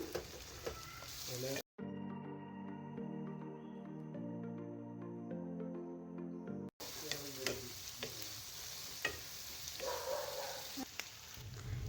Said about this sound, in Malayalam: അതിലേക്ക് കുറച്ച് ചെറിയ ഉള്ളി നടു ചീന്തിയിട്ട് ഇടുക. എന്നിട്ട് നന്നായിട്ടൊന്ന് മിക്സ് ചെയ്ത് വെക്കണം.